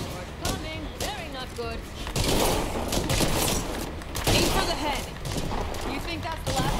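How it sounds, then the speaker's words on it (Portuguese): Gunfire in the zombie survival video game State of Decay 2, bursts of rapid shots over several seconds mixed with game noise, with people talking over it. "Um monte de tiro no selvagem."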